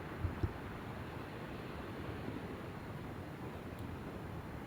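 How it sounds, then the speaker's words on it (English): Wind gusting across a campground on a cool 45-degree morning, a steady broad rush close to the microphone with a couple of brief low bumps near the start, no talking. "It is windy this morning,"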